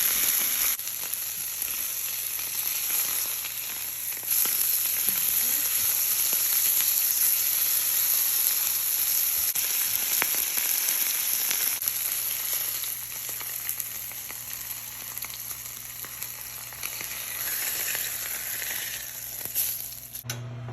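Seasoned choice and prime steaks fry in hot oil in a pan, a loud, steady, close sizzle and hiss that runs on without a break.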